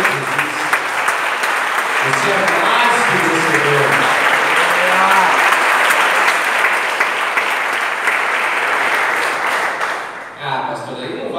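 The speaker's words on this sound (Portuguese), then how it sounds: "Dá uma salva de palmas." A church congregation claps in sustained, dense applause for about ten seconds, loud and close, with a voice speaking over it before the clapping fades out.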